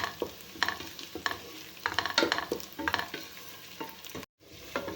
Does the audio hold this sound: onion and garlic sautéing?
yes